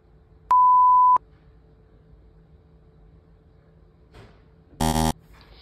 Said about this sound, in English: sleep without a stupid beeping noise in my ear again